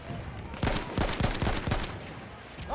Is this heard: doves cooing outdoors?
no